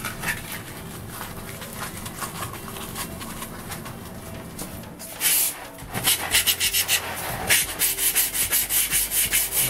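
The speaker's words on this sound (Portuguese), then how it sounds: "Vou lixar também as peças do fone," Styrofoam telephone parts for a period-style phone model being sanded by hand, a steady close rubbing rasp that turns into louder, choppier strokes in the second half, with no talking.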